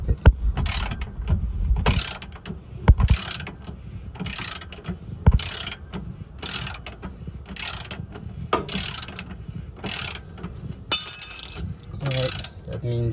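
A 17mm socket wrench ratchets a control arm bolt out on the rear right suspension, a close, rhythmic series of clicking strokes repeating at an even pace, with brief speech near the end.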